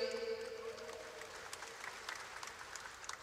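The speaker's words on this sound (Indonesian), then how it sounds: "saya tepuk tangan yang keras dong" An audience at an Indonesian government event with deputy ministers breaks into applause, a moderate wash of clapping that follows a brief tonal sound at the start and continues steadily to the end without speech.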